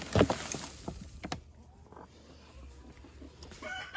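Scattered clucks and soft squawks from chickens close by in a coop on a small farm, with shuffling and scraping noises in the background.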